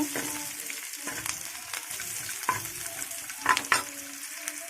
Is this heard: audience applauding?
no